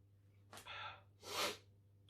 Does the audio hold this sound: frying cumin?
no